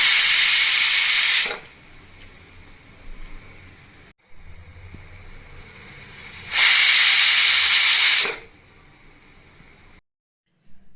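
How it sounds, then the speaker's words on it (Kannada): A pressure cooker cooking rice for vangibath lets off two loud, rushing steam whistles, one at the start and a longer one midway, with quieter kitchen background between them. "ನಾನಿಲ್ಲಿ 2 ವಿಷಲ್ನ ಕೂಗಿಸ್ತಾ ಇದ್ದೀನಿ."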